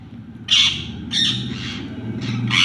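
Birds squawk and call in several short bursts over a steady low rumble, fairly close, with no one speaking.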